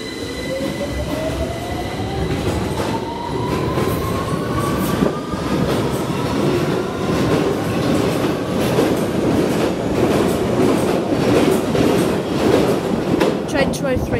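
A London Underground Victoria Line train pulls away from a platform at King's Cross St Pancras with a rising motor whine, continuous rumble and wheel noise building to rhythmic clatter, loud and close throughout.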